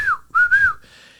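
A person whistling a short call imitating a father's signal whistle: a falling note, a brief gap, then a longer sustained note ending in a softer tail, clear and close with no talking.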